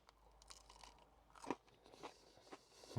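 Someone bites and chews a crunchy chip-shop fish cake dipped in curry sauce, with several close, crisp crunches at irregular intervals over soft mouth sounds and no talk.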